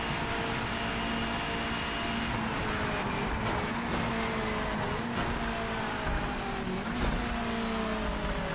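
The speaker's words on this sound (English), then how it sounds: "I can hear his car in the background a little bit" An opponent's race car engine in the Project Motor Racing video game drones steadily in the background, a continuous revving whine with pitch rising and falling beneath the player's own engine noise.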